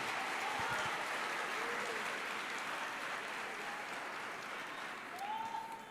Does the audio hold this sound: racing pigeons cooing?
no